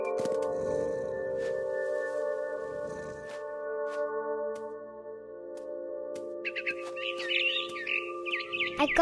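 A mother bird chirps in the game What Remains of Edith Finch, bursts of bright tweeting near the end over a sustained tonal musical drone, with sparse earlier rustling.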